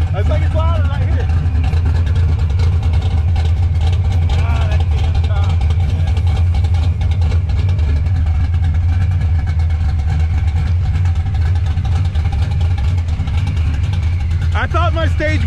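Supercharged 1990s Ford Mustang coupe with a stage two setup sits idling close by, a loud, steady, deep engine rumble running throughout while people talk over it.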